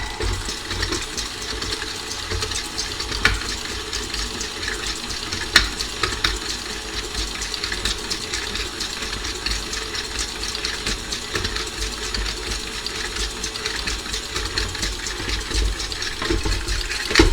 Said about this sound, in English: I'm going to cream the butter and the sugar first